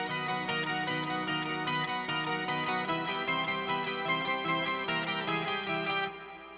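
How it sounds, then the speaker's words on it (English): A thick, distorted metal guitar tone from the Dungeon Cult preset on Archetype Pliny X, playing a steady, dense riff for about six seconds before easing off. The guitar is loud and alone. "The sound for that is the Dungeon Cult preset"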